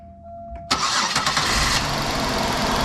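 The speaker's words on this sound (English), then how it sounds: "I'm gonna have my lovely assistant turn over the vehicle, so if we can see spark" A 2005 Buick Park Avenue with a random misfire is cranked and fires up abruptly after a quiet moment, then settles into a loud, steady idle close by.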